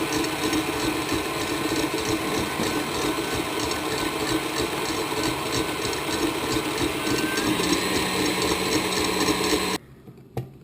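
An electric mixer whips four egg whites with 100 g of sugar for a French almond-flour Castel cake, a steady close mechanical whir with a rattling gear texture running continuously, then cutting off abruptly near the end.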